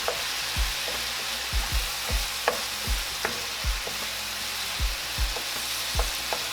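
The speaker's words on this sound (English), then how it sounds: "let this side that's face down, we're going to go ahead and let that brown for a minute" Turkey pieces cut small sizzle and fry in a pan, a steady close hiss with repeated low thumps and scrapes of stirring, no talking.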